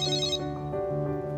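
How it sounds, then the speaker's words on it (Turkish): A mobile phone ringtone plays close by, a bright, tuneful electronic ring with sustained tones, heard alone with no talk over it. "Senin telefon da çalıyor."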